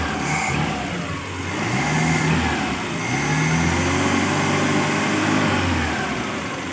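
A motorcycle engine with a newly installed carburetor runs steadily up close, with its throaty drone rising and easing in gentle revs throughout.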